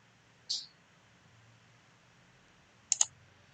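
A computer mouse gives one sharp click, then after a pause a quick double click, crisp and close in a quiet room.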